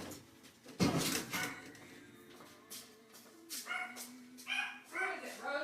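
Four Chihuahuas bark at someone at the door, sharp high yips and barks in repeated bursts, some loud and close, mixed with whiny yelps and a person's voice talking.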